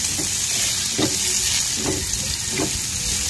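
Onion and garlic sizzle in a frying pan while a ginataang bangus is being cooked, a dense steady hiss broken by about four rhythmic scraping stirs, close and loud.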